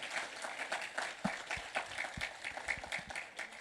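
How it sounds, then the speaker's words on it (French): Audience applause for single mothers at a French-language church gathering, a steady mid-level wash of many hands clapping with scattered sharper claps throughout. "Je voudrais vraiment qu'on les applaudisse, ces mamans monoparentales"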